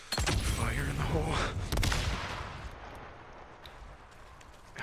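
A thrown explosive goes off in the video game Days Gone with a loud close blast. Its rumble and debris fade slowly, and a voice speaks over the start.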